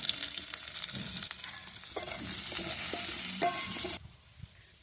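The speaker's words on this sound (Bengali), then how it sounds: "কিছুটা আদা দিয়ে ভালো করে এগুলো একটু কষে নেব" Potatoes frying with cumin and coriander powder in a hot pan, a steady loud sizzle with scraping stir strokes and clinks throughout, the sizzle dropping abruptly near the end.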